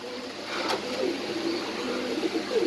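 Pigeons at a pigeon farm coo softly in a few low, rolling calls over a steady background murmur, heard at close range without speech.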